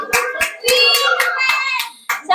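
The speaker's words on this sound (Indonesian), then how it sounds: "Tepuk tangan dulu ya." Schoolchildren in a classroom clap their hands in bursts that are loud and close, with sharp claps breaking through and a lively tonal wash of young voices and chatter mixed in.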